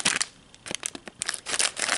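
Plastic blind-bag packaging for a Jurassic World Mini Action Dino toy being snipped and torn open with tiny scissors, giving close, crisp crinkly bursts in an irregular rhythm.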